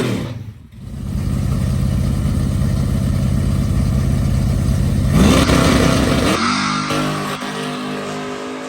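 ZZ632 big-block V8 in an OBS Chevy truck running open headers at a drag strip: a loud, steady rumbling idle that surges into a rising rev around five seconds, then drops back to a rougher idle, with no talking.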